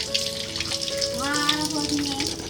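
Water runs from a tap onto hands being washed. The steady splashing rush carries on without a break, and a voice or tonal sound can be heard over it part of the way.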